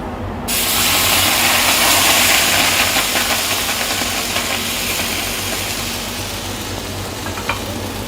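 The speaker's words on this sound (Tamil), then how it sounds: "இப்போ நம்ம தவா சூடாயிடுச்சு, அதில் ஊற்றலாம்." Pumpkin dosa batter hits a hot tawa, and a loud sizzle bursts in after half a second and holds steady, slowly easing off, with no talking.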